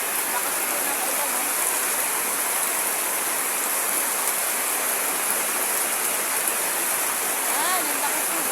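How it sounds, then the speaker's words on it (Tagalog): Heavy rain pouring down steadily, a dense, loud, unbroken wash of water noise with runoff rushing like a stream, alone without talk throughout. "ang lakas po ng ulan"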